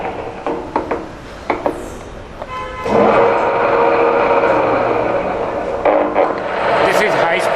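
A gear head milling machine's spindle running at high speed, a steady mechanical whir with gear hum that starts after a few brief clicks and continues loud and close, dipping briefly before resuming.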